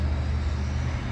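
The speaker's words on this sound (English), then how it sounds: "I heard the sound of the car." A car drives past outdoors, a steady low road rumble filling the moment with no voices over it.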